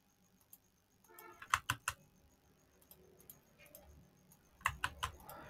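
Keystrokes on a computer keyboard while a password is entered, a sparse tap or two and then two short bursts of quick, fairly quiet clicks with pauses between them, heard alone without talk.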